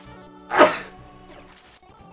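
A single sharp human sneeze bursts out loud and close, preceded by a brief inhale and followed by quiet room tone and a faint breath.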